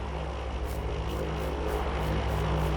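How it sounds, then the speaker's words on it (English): A propeller airplane drones overhead in the Farming Simulator 19 video game, a steady broadband engine roar with a faint rhythmic pulsing, moderately loud and continuous with no talk. "There's the plane."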